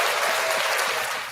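An audience at an evening talk event clapping together in a dense, steady round of applause that tapers slightly toward the end, with no speech over it.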